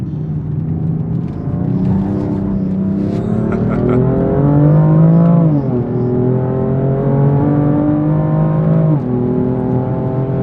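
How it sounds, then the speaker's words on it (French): A BMW M4 Competition F82 engine revs hard, its pitch climbing through the gears with a sharp drop at each shift, loud and close. "Le moteur est explosif."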